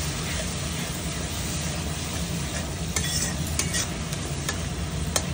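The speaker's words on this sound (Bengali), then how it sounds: "সুন্দর করে মশলাটা কষবো, যতক্ষণ না তেল ছাড়বে ততক্ষণ কষতে থাকবে।" Masala with tomatoes frying in oil, a dense continuous sizzle with spoon scrapes and clinks toward the end as it is stirred, close and loud with no talking.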